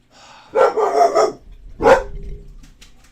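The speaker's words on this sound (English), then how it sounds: "So sorry about my dogs, guys." A dog barks twice nearby, a sustained loud bark followed by a second sharp one, with faint household noise after.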